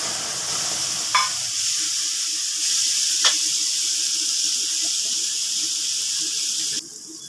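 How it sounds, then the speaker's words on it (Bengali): Fennel seeds and a soaked spice paste of salt, turmeric, chilli and cumin powders sizzle in hot oil for tel koi, a continuous moderate hiss with a couple of brief sharp squeaks, no speech. "তেলটা গরম হয়ে গেছে, আমি একটু মৌরি ফোড়নে দিয়ে দিলাম।"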